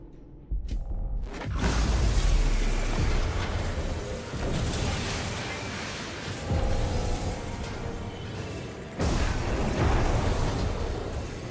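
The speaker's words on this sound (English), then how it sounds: "Flashbang." A flashbang explosion in the video game The Outer Worlds 2, a sudden loud bang followed by a long roaring, rumbling blast that swells again near the end.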